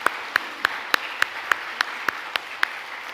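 A church congregation at Sunday worship applauds newly appointed deacons, heard as a sparse, evenly spaced run of about ten distinct claps, fairly soft and regular.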